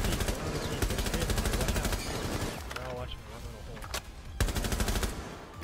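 Rapid automatic gunfire in Rainbow Six Siege, dense bursts of shots rattling almost continuously with brief gaps, loud and close, with a player talking over the gunfire.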